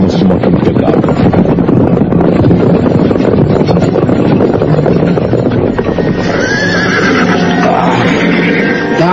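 A horse whinnies loudly and close over a dense, rough wash of wind and movement noise, with the neigh rising and wavering through the middle and end.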